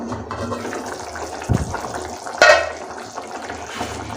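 Mutton and green field bean curry being stirred in a pot after simmering, with wet sloshing and scraping, a soft knock near the middle and a brief louder clatter, close and steady throughout.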